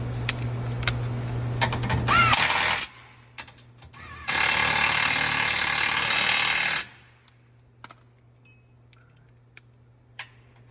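A power tool gun driving engine mount bolts while installing LS engine mounting brackets, two loud sustained rattling bursts of a few seconds each, close up, over a low steady hum and followed by faint clicks.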